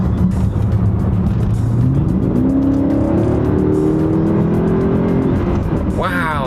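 A Mercedes ML63 AMG SUV accelerates hard from about 50 mph, its engine note climbing steadily in pitch and staying loud and continuous throughout, heard close up from inside the cabin.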